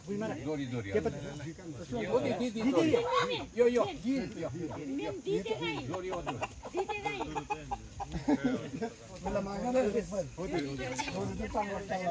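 Chickens and a rooster cluck at a Dashain Nawami Bhimsen puja among the Jirel people, mostly buried under steady nearby talk for the whole stretch.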